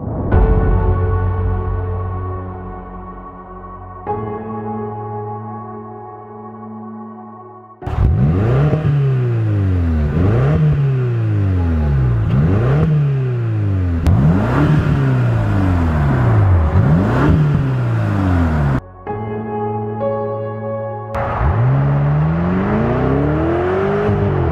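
A 555-horsepower S63 4.4-litre V8 in a BMW X5 M revs hard, with repeated rising and falling sweeps through several gear changes and brief idling pauses between bursts, loud and close throughout.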